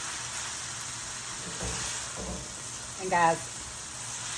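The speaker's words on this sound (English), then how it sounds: "what we're doing now is we're frying our rice." Chicken cauliflower fried rice sizzles in a hot pan with a steady, quiet frying hiss, while someone speaks briefly over it.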